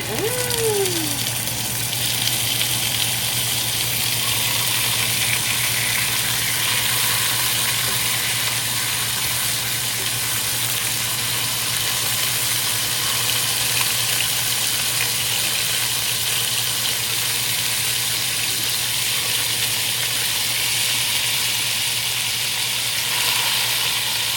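Steady, loud sizzling of pork ribs frying in hot oil, a continuous hiss with a low hum underneath, no talking.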